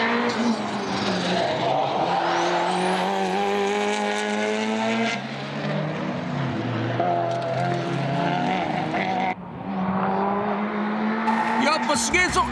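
A four-door sedan race car laps the TI circuit at full speed, its engine loud and close, revving high through the gears with rising and falling pitch, a brief shift gap, and a voice talking over it.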